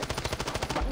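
Rapid automatic gunfire from a first-person shooter video game, about a dozen evenly spaced shots in a fast burst, loud and close with no talking.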